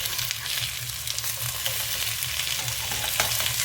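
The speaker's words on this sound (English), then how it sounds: "our potatoes have been cooking for 5 minutes, so I'm going to go ahead and give them our first flip." Potatoes for home fries sizzling in a skillet, a steady close hiss of frying fat with soft scrapes and clatter as the pieces are flipped over, with no talking.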